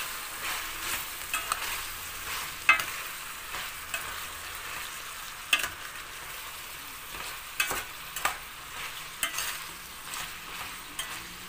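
Chicken pieces sauté in a pan, with a steady soft sizzle of frying and repeated sharp scraping clicks as a utensil stirs them at an uneven rhythm, heard close up and with no talking.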